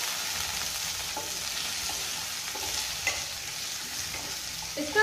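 Chopped onion sizzles and fries steadily in a pan for chilli soybean, with occasional stirring clinks and scrapes, close and continuous with no talking.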